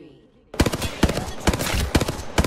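Prowler weapon fire in Apex Legends, loud sharp bursts of rapid gunshots starting after a quiet half second, repeating in short clusters with brief gaps, close and punchy.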